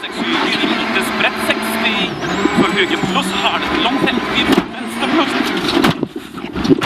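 A Citroën DS3 WRC rally car racing flat out on a gravel stage at the 2014 Rally Argentina, its engine roaring loud and close throughout with rattling and clattering over the surface and a commentator talking over it.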